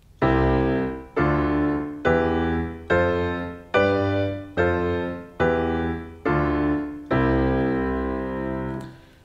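Nine separate piano chords played one at a time at a slow, even pace, each ringing out and decaying before the next, clear and close.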